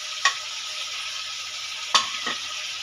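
Coarsely chopped tomatoes dropped into a pan of frying masala, a close steady sizzle with two sharp bursts of hissing and clatter as they hit the hot oil.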